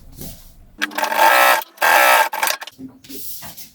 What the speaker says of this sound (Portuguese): a gente vai passar uma costura aqui